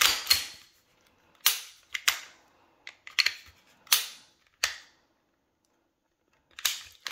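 Glock pistol being broken down, a series of sharp metallic clicks and snaps, about eight distinct hits spaced irregularly with short quiet gaps, close and crisp.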